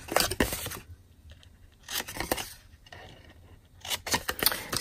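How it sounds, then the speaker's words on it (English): Scissors cut through card up to a score line while a handmade candy box is made, in three close bursts of crisp snipping separated by quiet pauses. "Now I'm going to cut up to the score line on both of these sides."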